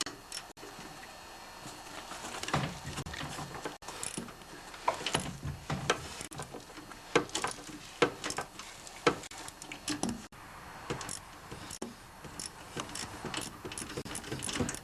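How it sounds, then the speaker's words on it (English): A ratchet wrench with a 3/8 socket works loose a bolt on a snowblower's electric starter, giving bursts of quick close clicking interspersed with metallic clinks and pauses. "use a 3/8 socket with the wrench, because then I know it's not going to strip the bolt"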